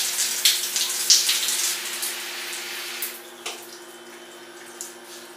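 Water runs steadily from a tap at a beach resort in Moalboal, Philippines, with a soft, continuous rush, broken by a few faint clicks and knocks, no voices.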